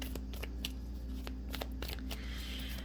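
Moonology Oracle deck cards being shuffled up close, a run of quick riffling snaps and soft slides repeating over a low steady hum.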